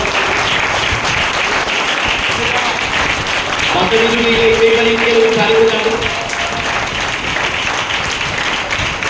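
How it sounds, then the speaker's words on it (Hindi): A church congregation claps loudly for a pastor, steady dense applause running throughout with a voice speaking over it partway through. "एक बार पास्टर सुमित के लिए जोर से ताली बजा देंगे"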